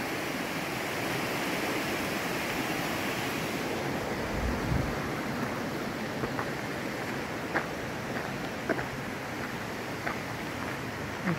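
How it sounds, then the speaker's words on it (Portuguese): Cascata da Solitária waterfall in Igrejinha, Rio Grande do Sul, Brazil, pours in a steady, close broadband roar of cascading water that holds constant throughout, with no voices. "Mais quedas d'água."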